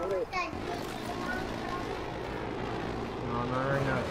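A-10 jets roaring overhead during a combat video game mission, a loud sustained engine drone filling the clip, with voices talking over it.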